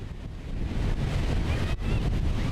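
Ocean surf and wind at a Volusia County beach roll together in a steady, loud wash of broadband noise, with wind buffeting the microphone throughout and no voices.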